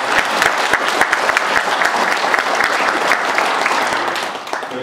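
Steady, dense applause from an assembly at a founding general meeting in Korea, approving the election of a temporary chair; continuous clapping throughout, tapering slightly at the end.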